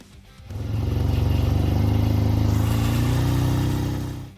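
A Suzuki RE5 rotary-engine motorcycle from the 1970s runs steadily after a brief quiet start, its smooth buzzing drone holding at a constant pitch close by, then fading slightly at the end.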